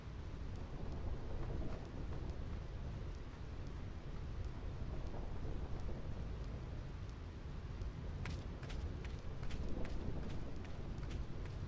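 Thunder Plains in Final Fantasy X: a steady roar of rain and rumbling storm noise fills the scene, loud and continuous, with sharper crackling bursts near the end.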